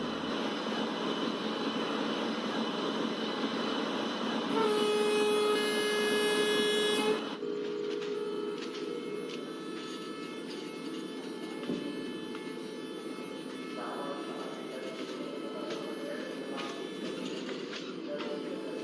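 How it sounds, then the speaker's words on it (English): Nagarcoil Express passenger train pulling slowly out of Palghar station, a steady close rumble of the coach with a loud horn blast sounding partway through and then cutting off. "We can see that we are slowly departing Palghar station after the overtake."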